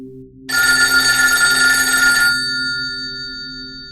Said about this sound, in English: Then the phone rang.